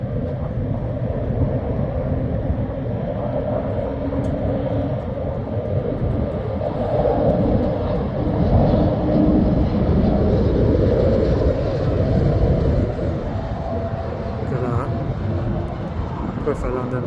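A British Airways airliner comes in to land: a loud, sustained low jet rumble that grows and peaks midway, then eases slightly while staying close and continuous.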